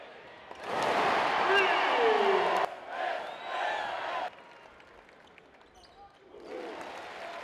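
Crowd noise fills a basketball arena during a college alumni game, with loud cheering swells that fade and return alongside bouncing and shouts, partly under a speaking voice.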